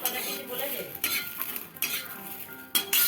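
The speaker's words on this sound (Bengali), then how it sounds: "রসুনটা একটু ভাজা ভাজা করে নিচ্ছি" Garlic and green chillies fry in oil in a home kitchen pan while a utensil stirs and scrapes them, giving close, soft sizzling broken by several sharp clinks and scrapes.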